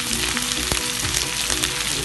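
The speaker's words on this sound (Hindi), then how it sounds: "देखिए हमारे पास ये जो प्याज है इसको डालकर फ्राई कर देते हैं।" Sliced onions frying in hot oil for a spicy chicken gravy give a steady, close, dense sizzle with crackling pops and faint stirring throughout, with no talking.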